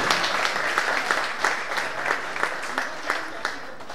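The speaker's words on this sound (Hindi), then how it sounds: "साथियों तालियां" Audience at a Hindi fortnight closing ceremony applauding, a steady, fairly close wash of many hands clapping with rhythmic bursts throughout.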